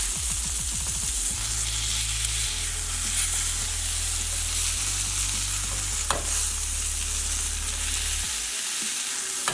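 Burger patties sizzle loudly on a hot surface and are pressed down with a spatula, a steady dense frying hiss that stays up close and continuous, with a low humming drone running beneath it throughout.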